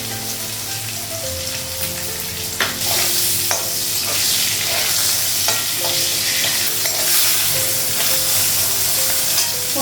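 Pointed gourd (potol) frying in a pan, a steady broadband sizzle with intermittent scraping stirs and soft clinks, close and fairly loud throughout, growing slightly louder after a few seconds, with no talking.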